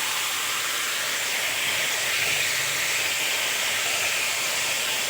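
Steam hisses steadily from a frying pan of cauliflower once the lid comes off, a constant close broadband rush with no other sounds.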